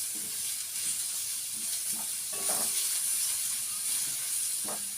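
Chilli and tomato fry in a pan for prawn roast, giving a steady, fairly quiet hiss and sizzle with a few faint stirring knocks.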